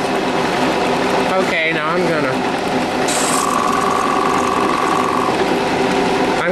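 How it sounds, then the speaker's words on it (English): A cutter spins on a rotary table, cutting round graphite molds, with a loud, steady mechanical whir and grinding throughout, plus a brief higher tone partway through; someone speaks briefly over it. "I'm gonna turn on the cutter, and hopefully this time it'll run"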